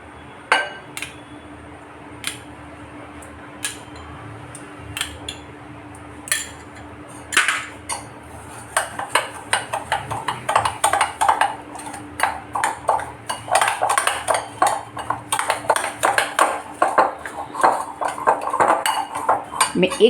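Spoons and bowls clink and tap while yogurt is mixed into semolina, sparse at first and then a quick run of close metallic chinks and scrapes against the dish.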